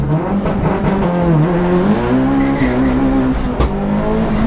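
A Mitsubishi Evo rips through a corner at speed on a track, its engine note loud and rising and falling continuously, with tire noise throughout.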